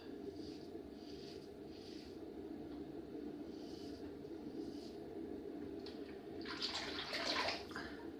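A shaving razor is rinsed under running tap water: a steady rushing flow throughout that swells into a brighter, louder splashing for a second or two near the end, with no talking.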